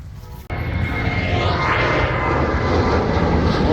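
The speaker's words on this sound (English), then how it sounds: "We're right next to Burbank Airport, so going to get some noise today" A fixed-wing airplane passes overhead near Burbank Airport, its jet engine roar rising abruptly and then holding as a loud, steady rumble for several seconds.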